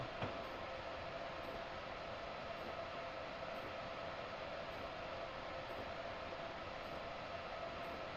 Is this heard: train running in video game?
yes